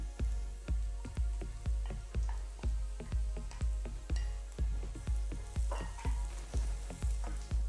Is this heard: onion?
yes